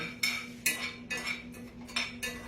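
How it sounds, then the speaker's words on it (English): A utensil scrapes and clinks against a pan while pecans are stirred and toasted, in six or seven separate bright strokes over a steady low hum, close by, with no talking. "Let's check our pecans. That's all we've got to do is check these. I'm just keeping them stirred."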